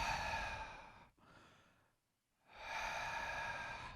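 A man imitates the sinister breathing of a big roach with two long, raspy, breathy exhalations close to the mic, separated by a brief quiet pause.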